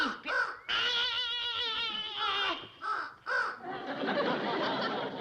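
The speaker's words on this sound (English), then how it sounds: "That's a scarecrow you're setting on, you stupid crow." A crow caws repeatedly near a scarecrow on a farm, loud, harsh calls in an irregular series, some drawn out, close and dominant, with a breathy chuckle-like sound at the end.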